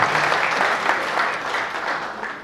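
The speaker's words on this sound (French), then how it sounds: "Applaudissez mon ami, mon frère," An audience applauds steadily at the official launch of an accountants' club in Senegal, a dense, sustained wash of many hands clapping that fills the room and eases off slightly toward the end.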